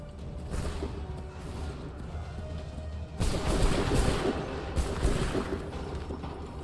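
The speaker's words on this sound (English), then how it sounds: "Make ready. Make ready. Open fire." Musket volleys in Assassin's Creed 3 crackle and boom as a line of soldiers fires, a rumbling fusillade that swells sharply halfway through into a louder, denser burst of shots and impacts, with no talk over it.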